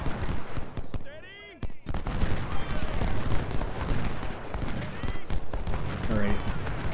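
Musket and cannon fire in the Civil War battle video game Ultimate General Civil War, crackling volleys and booms rolling continuously under someone talking.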